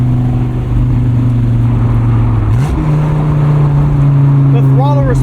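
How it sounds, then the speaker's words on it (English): A 2004 Dodge Viper SRT-10 convertible's V10 engine drones loudly and close on a cold day, its steady tone stepping up in pitch midway as it revs quickly, with wind and road noise underneath. "The throttle response is absolutely insane. This V10 is so quick to rev."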